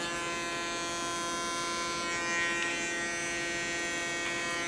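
An electric hair clipper buzzes continuously as it cuts hair using the clipper-over-comb technique, a steady close whine with slight shifts in pitch as it moves through the hair.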